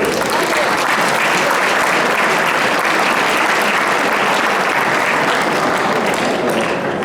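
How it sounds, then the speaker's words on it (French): Sustained applause from a crowd at a chess open's prize ceremony, steady and loud throughout, with dense clapping filling the whole stretch. "on peut tous les applaudir"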